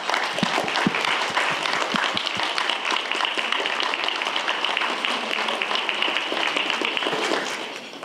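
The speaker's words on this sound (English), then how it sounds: "give them a round of applause." Audience applause for students standing to be honored at a JCPS award ceremony, a dense sustained wash of many hands clapping that tapers off near the end.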